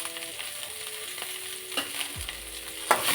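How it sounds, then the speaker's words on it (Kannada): Curry leaves hit hot oil in a pan of frying chicken masala with a steady, close sizzle and crackle, a few light utensil scrapes, and a sharper burst of spitting near the end, with no voices. "ಕರಿಬೇವು ಸೇರಿಸ್ತಾ ಇದ್ದೀನಿ"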